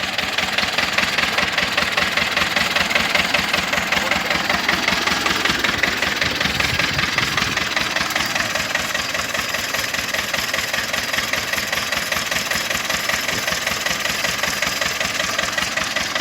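A homemade tractor engine running steadily near the mic, a loud rhythmic knocking chug at a constant idle throughout.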